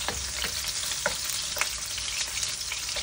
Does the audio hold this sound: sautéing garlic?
yes